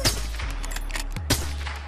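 Rapid automatic gunfire from Call of Duty Warzone rattles in quick bursts with a heavy low boom, loud and close, pausing briefly before a final sharp volley.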